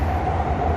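A high-speed train runs along a seaside line in Shenzhen, heard as a steady, loud low rumble throughout the brief moment.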